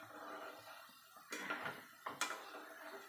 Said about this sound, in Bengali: এবার আমি খুন্তি দিয়ে নাড়বো